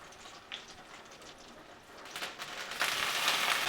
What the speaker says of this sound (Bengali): এইবার এই সময় আমি কিন্তু শাকটা দিয়ে দেব।